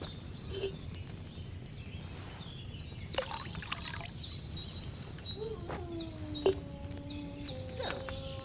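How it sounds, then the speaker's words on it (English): Wine trickling into a cauldron in Kingdom Come: Deliverance 2, a soft steady pour running underneath, with bird chirps, faint clinks and a low hum in a quiet medieval room. "What did you pour in there? Wine, of course."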